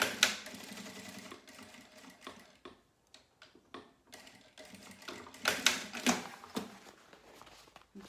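A sewing machine stitching along fabric edges, running in short rapid bursts separated by brief pauses, close and clear with no talking.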